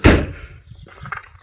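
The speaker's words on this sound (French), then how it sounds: "On va fermer les portes." Car doors of a 1980s Peugeot 205 GR shut with one loud, close slam followed by fainter rattles and a softer thud.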